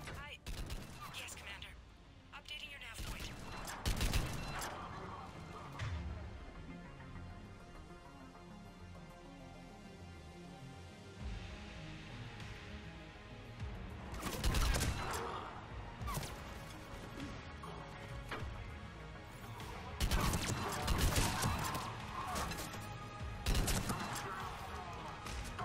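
Gunfire from Cerberus troops in the video game Mass Effect 3, sharp bursts and impacts in several loud clusters over a low game ambience, with brief talk between volleys.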